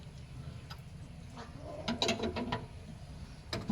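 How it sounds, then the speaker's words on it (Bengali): A tractor's fuel-tank pipe being tightened onto its filter, heard as faint, sparse metallic ratcheting clicks in a quiet setting, busiest in the second half. "এবার এটা ভালো করে টাইট করে দেবো"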